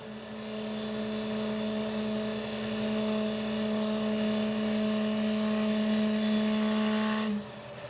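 A wood lathe spins a vase with a pewter inlay, giving a loud, steady whirring hum with a constant tone for about seven seconds before the sound cuts off.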